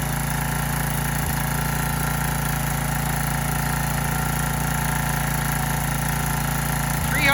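A small engine running on homemade biogas from food and animal waste idles in a steady, even drone throughout, close and continuous with no talk over it.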